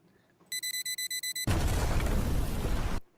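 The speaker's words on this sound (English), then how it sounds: "I'll give them credit for the explosion" In Star Wars: The Nobody, eight rapid high electronic beeps lead into a loud, roaring explosion that rumbles for about a second and a half before cutting off abruptly.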